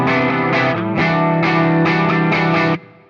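Electric guitar strums two chords back to back, with a chorus-like effect and slight distortion. The sound is full and sustained and ends abruptly near the close.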